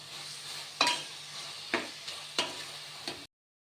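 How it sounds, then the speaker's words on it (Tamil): Masala gravy for paneer biryani frying in a pan; a low sizzle with four or five distinct scraping stirs against the pan, close and fairly quiet, ending abruptly in silence with no talking. "அதை நல்லா கிரேவி மாதிரி வறுக்கணும்"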